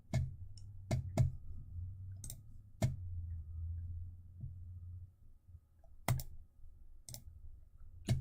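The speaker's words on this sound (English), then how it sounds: "It's me trying to press the stream deck, and all the keys are set properly." Stream Deck keys pressed one after another, giving sharp, faint, irregular clicks spaced through a quiet room with a low background hum.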